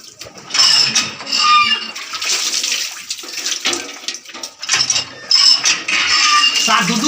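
Dishes and pots clatter and clink at a running water tap, with splashing and bursts of metallic scraping coming in uneven waves, close by.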